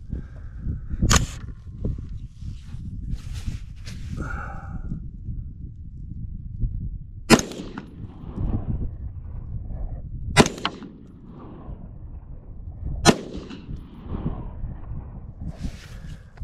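An M4A1 rifle fitted with a buffer under test fires several sharp, loud reports outdoors in wind, each shot standing alone with gusty wind rumble filling the gaps between them.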